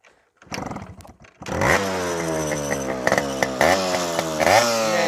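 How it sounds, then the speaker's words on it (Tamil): A Yamaha RX100 motorcycle from the 1980s–90s sputters briefly, then its engine catches and runs loud and close, holding a raspy, buzzing idle with several sharp blips of the throttle. "இப்போ இந்த வண்டியோட சவுண்டு வந்து எல்லாருக்கும் பிடிச்ச மாதிரி சவுண்டுன்னு சொன்னேன்."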